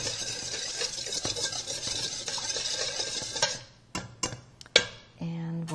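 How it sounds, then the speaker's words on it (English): A dressing of lemon juice, grated lemon peel, sugar and salt is whisked in a bowl, quick rhythmic clicking and scraping close by, ending with a few separate taps and a brief voice. "grated lemon peel, and sugar, a little bit of salt. I'm just going to"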